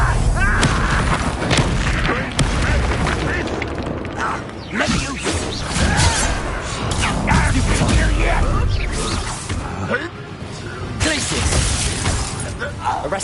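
Confringo fire spells blast in Hogwarts Legacy, as crashing, shattering booms and whooshes in loud, continuous combat with a speaking voice mixed in.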